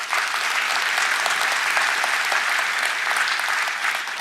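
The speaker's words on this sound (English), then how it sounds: "a round of applause." Sustained audience applause during Intel's COMPUTEX keynote, a dense, even wash of clapping from a large crowd holding steady throughout, with no speech over it.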